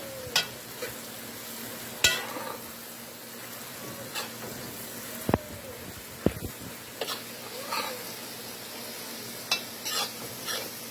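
Mango chutney being stirred in a pot on the stove: a steady sizzle runs underneath, with scraping strokes and sharp clinks of the spoon against the pot at irregular intervals, close by.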